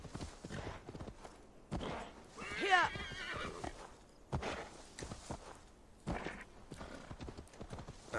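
A horse's hooves clip-clop in Assassin's Creed Valhalla, with a sharp whinny partway through and scattered thuds of movement, all under someone talking.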